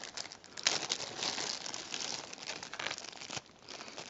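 Plastic packaging holding a set of ten Chauvet EZ Gobo slides crinkles and rustles steadily as hands handle it, close and fairly quiet, with brief louder crunches and no talking.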